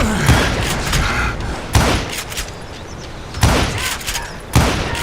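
Loud gunshots in the video game Call of Juarez, four sharp blasts in separated bursts spaced over several seconds with a steady rumbling backdrop between them.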